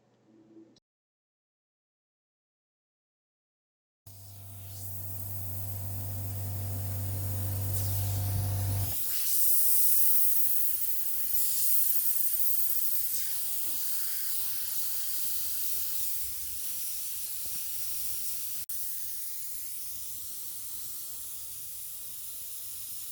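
Airbrush spraying paint, a steady close hiss that runs continuously for most of the stretch after a short silence and a brief hum at the start.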